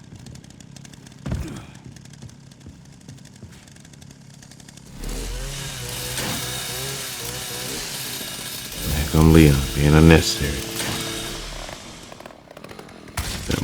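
A chainsaw in the survival horror game Resident Evil Requiem roars into life, revving with rising and falling engine bursts over several seconds, loud and close, while someone talks over it.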